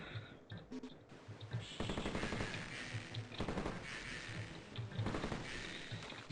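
Rapid weapon fire from a secret ultimate weapon launching metal balls in the video game Heretic, bursts of repeated shots and impacts in a busy game soundscape, moderately loud.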